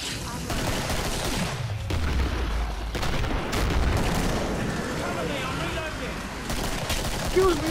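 Sustained heavy gunfire in the co-op zombie shooter Killing Floor, fought against Fleshpound and Scrake monsters, keeps up rapid shots and deep booming blasts with no pause, while players shout over the din.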